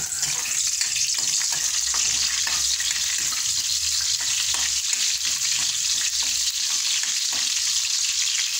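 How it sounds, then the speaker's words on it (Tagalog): Garlic sautéing in reused oil that earlier fried carrots and potatoes for kaldereta, giving a constant dense sizzle, close and loud, with faint stirring clicks and no talking. "Gisa na tayo panyero ko."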